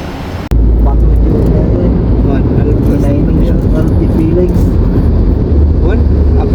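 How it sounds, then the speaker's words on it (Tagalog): A car travels along a road, its loud, steady low rumble filling the cabin after a sudden jump in level. Road noise stays constant throughout while people talk over it. "Aming sasakyan."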